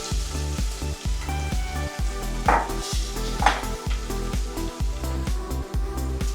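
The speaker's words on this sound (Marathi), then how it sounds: "लसूण आपण व्यवस्थित तेलावर लाल करून घेऊया." Garlic frying in hot oil with cumin seeds and asafoetida gives off a steady, close sizzle that continues throughout, alongside a regular rhythmic background pattern.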